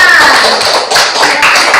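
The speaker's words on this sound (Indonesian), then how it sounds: "Tepuk tangan untuk kelompok aroma" Classroom applause for a student group, a short burst of close, loud clapping from a small group, brisk and slightly uneven, lasting under two seconds.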